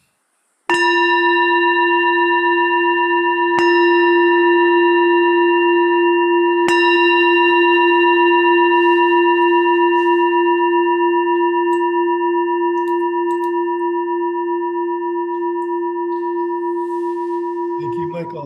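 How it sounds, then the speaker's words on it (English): A gong struck three times right beside the microphone, each hit blooming into a loud sustained ringing tone that overlaps and slowly fades across nearly twenty seconds. "That is a righteous gong, Michael. It's right near the microphone."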